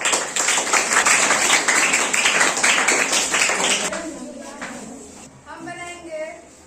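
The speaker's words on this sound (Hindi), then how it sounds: "तालियां इस ग्रुप के लिए।" A seventh-grade class claps loudly for a student group presenting a soil guide, with dense applause filling the room for about four seconds before it fades and a voice begins speaking.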